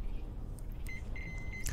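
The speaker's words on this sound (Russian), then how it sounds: "у меня пищит просто нескончаемый мой металл-детектор" Faint electronic beeps from a metal detector in the video game Metro Exodus, a few short quiet tones in a low hum, heard alone without talk.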